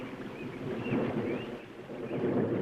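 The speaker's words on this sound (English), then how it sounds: "That storm's blowing up fast." Storm noise with a continuous rumbling, windy wash and a thunder-like roar that swells and ebbs, loud and steady throughout with no voices.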